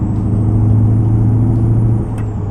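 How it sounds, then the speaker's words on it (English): Steady loud drone of a heavy truck engine in American Truck Simulator, with a low grinding hum under the motor as gears fail to mesh, and a brief hiss near the end; no speech. "you hear the grinding?"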